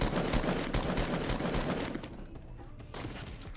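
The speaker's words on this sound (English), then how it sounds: "Someone's taking shots at me, dude." Rapid bursts of gunfire in a Fortnite Battle Royale match, dense and loud for the first two seconds, then thinning out before a final short volley near the end.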